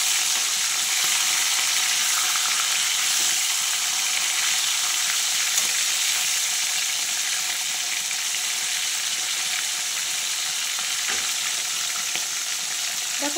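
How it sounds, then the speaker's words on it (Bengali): Pieces of bhola fish frying in hot oil give a steady, dense sizzle that holds at an even level throughout, close and continuous with no voices. "মাছের পিসগুলো আমি পরে ভাজবো, আগে মুড়ো কটা ভেজে নিচ্ছি।"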